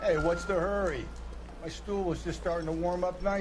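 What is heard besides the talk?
No everyday noise stands out behind the speech.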